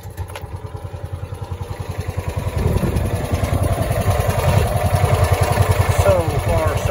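A Kawasaki FE290D engine on a John Deere Gator, suspected of a failing ignition coil, cranks and catches into a loud, rapid, rhythmic chugging run that builds slightly toward the end.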